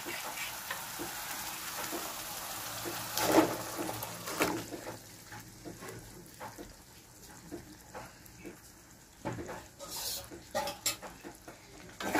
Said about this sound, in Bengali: এবার আমি মাংসগুলো ছেড়ে দেবো